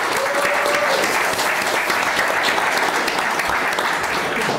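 Audience applause at an autumn guest evening in Mill, a steady dense wash of clapping from a sizable crowd that stays loud and even throughout, with no voices standing out.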